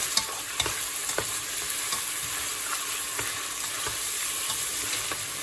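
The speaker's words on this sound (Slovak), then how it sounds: "A cibuľu som nechal restovať do zlatista." Chopped onion sautéing in a pan until golden, a continuous close sizzle broken by regular scraping stir strokes, with no voices.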